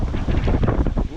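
Strong typhoon wind during Typhoon Wipha in Hong Kong roars steadily across the microphone, a loud, continuous buffeting rush with no gaps and no voices.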